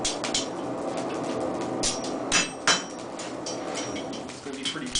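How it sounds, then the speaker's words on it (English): A blacksmith at a historical demonstration strikes metal with the back of a hammer while forming a loop: a few bright metallic clanks ring out over a steady ambient hiss, with faint background voices. "I'm going to take the back of the hammer now, make a second loop."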